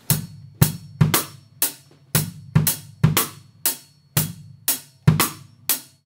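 Drum kit playing the verse groove of a metal song, with a steady pattern of sharp cymbal-and-snare hits over low kick and tom thumps, recurring roughly every half second, close and loud with no voices.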